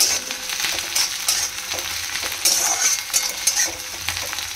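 Boiled potatoes fry in a pan, with steady close sizzling and crackling throughout and occasional clinks and scrapes of a utensil against the metal.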